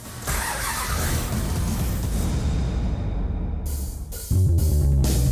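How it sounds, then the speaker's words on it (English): A 1969 Dodge Charger Daytona with a supercharger fires up in a garage, a loud engine roar sustained for several seconds before settling into a rough, deep idle. "make sure the engine will fire up"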